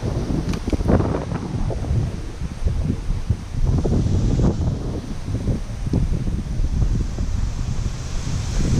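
Strong wind buffets the microphone outdoors on a fishing outing, producing a continuous loud, low rumbling roar with gusty surges and a few sharper bumps throughout.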